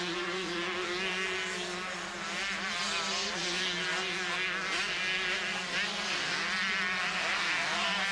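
Honda motocross motorcycles race past at a 1990 Dutch national motocross event, a continuous high buzzing engine whine that holds loud and steady from start to finish.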